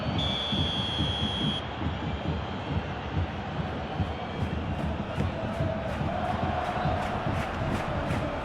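A packed football stadium crowd during a Bayern Munich versus Real Madrid Champions League quarter final, a dense, steady roar with chanting and cheering throughout, a rhythmic clapping pattern toward the end.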